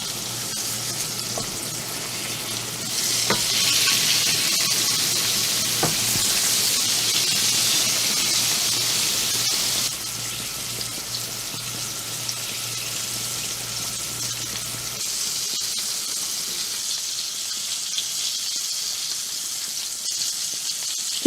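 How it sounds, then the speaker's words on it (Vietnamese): Battered eggplant fries in a pan of hot oil, giving a steady close sizzle and hiss that runs the whole time. Faint scrapes and stirring noises sit under it, and no one speaks. "Sau đó khi mặt dưới đã chín vàng thì mình canh để lật lại chiên tiếp phần trên nha"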